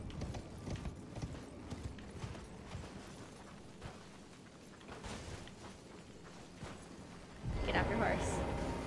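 Horse hooves clip-clop in a steady, fast galloping rhythm in the video game Elden Ring, under game sounds and a player talking.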